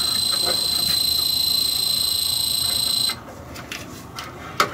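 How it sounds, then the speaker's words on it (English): A steady high-pitched electronic alarm tone from a PetSafe electronic pet fence sounds continuously, then cuts off abruptly, leaving quiet background noise with a few faint clicks. "I can hear the alarm going off"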